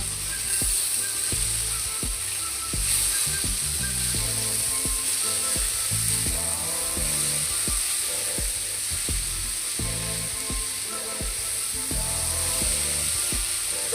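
Bitter gourd and potato fry being mixed with salt in a pan, a constant bright sizzle under a steady run of rhythmic scraping strokes from the spatula, close up with no talking.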